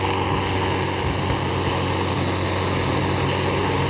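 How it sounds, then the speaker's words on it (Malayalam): In the Indian Bike 3D video game, a mini jetpack flies with a constant, loud mechanical drone and rumble that holds steady throughout, with no talking. "നമ്മുടെ മിനി ജെറ്റ് പാക്ക് വരും."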